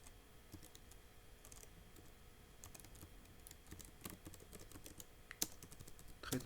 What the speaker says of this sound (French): Je tape le nom d'un article quelconque